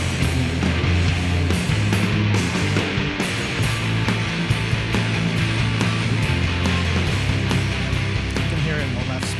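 Dense, distorted electric guitars stacked in octaves play heavy, sludgy chords in a chorus, low and high layers together, full and loud throughout with a driving rhythm.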